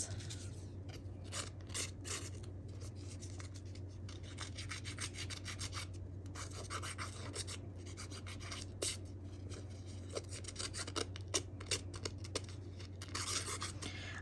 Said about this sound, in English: I'm also going to come down with the scissors and I'm just going to like slice into it.